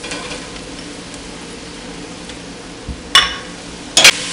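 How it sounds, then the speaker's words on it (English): Onions with fresh mushrooms sautéing in a pan for beef stroganoff, a soft, steady low sizzle ending in a few sharp metallic clinks of a utensil against the pan, no voices. "We saute these onions for about 30-45 seconds"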